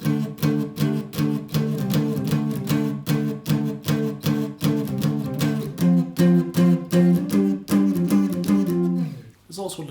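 An electric guitar plays the chugging riff, a loud, fast run of evenly repeated picked notes that ends abruptly with a final ringing strum.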